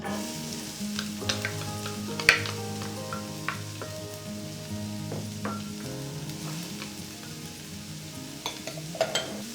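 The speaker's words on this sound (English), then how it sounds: "we're going to saute some onion and some celery" Onion and celery sautéing in a big sauté pan, a steady moderate sizzle up close with occasional utensil clinks and scraping stirs scattered through it.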